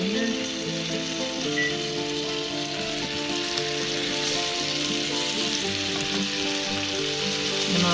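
Slivers of half an onion fry in a hot pan with a dense, even sizzle that holds steady and close for the whole stretch, with no talking over it.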